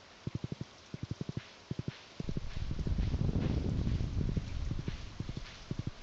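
Horse hooves clip-clop in short rhythmic bursts while riding in Stardew Valley, crisp and close, with a stretch of louder rumbling ground noise in the middle.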